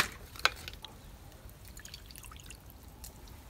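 Water poured into a Petromax FT3 cast-iron Dutch oven holding chicken curry with yogurt and tomato puree, heard as a faint, soft trickle with a sharp splash near the start, quiet and close.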